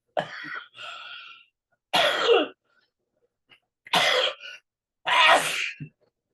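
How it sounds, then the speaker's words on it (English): A man breaks into a coughing fit, four harsh, close bursts of coughing separated by short silences, with a brief throat sound near the end. "he had a coughing fit right at the end"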